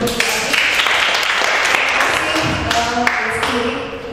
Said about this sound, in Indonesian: Boleh gak kasih tepuk tangan untuk